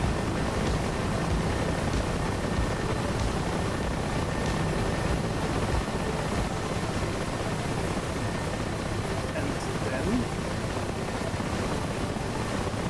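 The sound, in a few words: helicopter rotor and engine in DCS flight simulator video game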